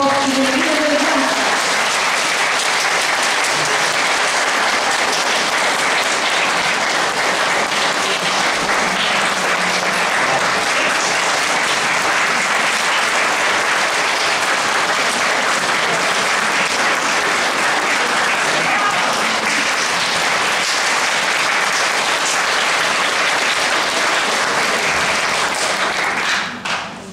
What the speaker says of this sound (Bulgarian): Аплодисменти за Атанас Попов и Велика Великанска.